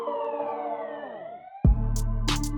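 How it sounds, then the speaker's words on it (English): A police car siren wails in a falling sweep that fades out, followed after a short gap by a heavy thud and a low rumble with brief bright bursts. "A police car pulled up."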